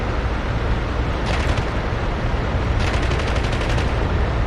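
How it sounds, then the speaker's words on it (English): An M2 half-inch machine gun mounted on an armoured personnel carrier in the DCS World combat game fires two rapid bursts of fast, rattling shots. The bursts cut through a loud, constant vehicle rumble, with no talking. "That's very fast firing for a half-inch machine gun, isn't it?"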